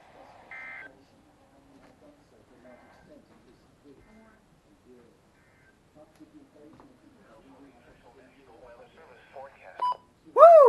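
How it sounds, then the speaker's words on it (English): A Wireless Emergency Alert tone on a phone bursts out loud and sudden at the very end, after a long stretch of quiet, murmured background sound. "First WEA activation on my phone in 2 years"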